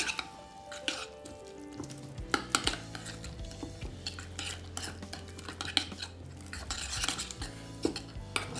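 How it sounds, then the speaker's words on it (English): Seasoning with fresh ground pepper and salt is stirred together in a bowl, giving a steady clatter and scrape of a utensil against the dish with sharp clinks throughout, close and moderately loud, with no voices. "season with some fresh ground pepper and some salt. Mix that all up together."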